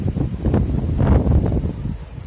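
Strong north wind gusts across the microphone outdoors, a close, rumbling buffeting that rises and falls for a couple of seconds with no talk.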